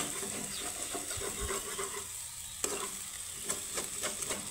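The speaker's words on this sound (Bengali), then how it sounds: "ডিমটাকে আমি একটু সাইড করে করে একটু ভেজে নিচ্ছি।" An egg fries in a pan with a steady, fairly quiet sizzle and hiss, broken by a few light clicks and scrapes as it is pushed aside.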